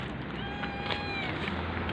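A cat meows over steady background noise, with a faint thin tonal cry threading through the two seconds; no one speaks.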